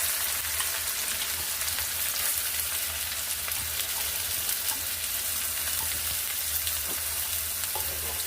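Chopped onion fries steadily in hot oil for home-cooked palak paneer, a soft, even sizzle with faint crackles and no voices.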